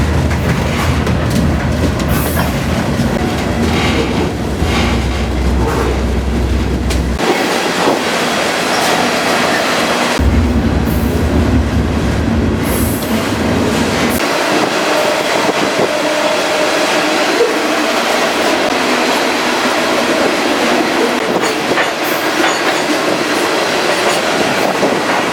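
A freight train rolls out of a rail yard near Slaton, Texas, heard from aboard: a loud, continuous rumble and rattle of cars and wheels with rhythmic clickety-clack and shifting roar throughout.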